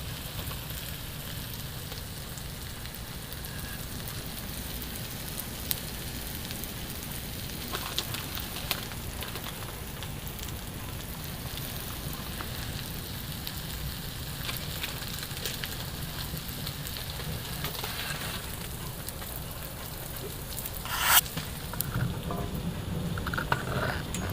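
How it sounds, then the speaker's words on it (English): Steady rain falling on a winter camp, a continuous broadband hiss with soft patter holding evenly throughout, joined near the end by a brief louder clatter. "It's raining now"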